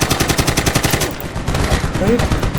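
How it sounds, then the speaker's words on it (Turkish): Automatic machine gun fire in Medal of Honor (2010) at a Taliban airfield: a loud, rapid, steady stream of close shots that slackens briefly, then resumes. "makineli silah almışlar bizi sıkmaya çalışıyorlar"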